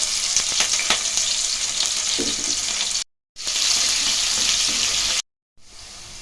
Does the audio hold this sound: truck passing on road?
no